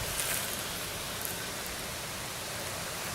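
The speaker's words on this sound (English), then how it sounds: "And here comes the rain." Steady rain falls during an outdoor metal-detecting dig, a constant broadband hiss with no distinct drops, even and moderately loud throughout.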